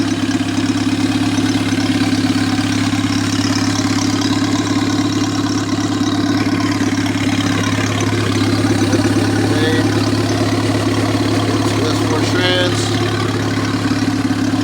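A turbocharged Honda F23A Accord engine at 15 pounds of boost, with a GT35 62 mm turbo and 880 cc injectors, idles loud and close in a steady, even drone that never changes.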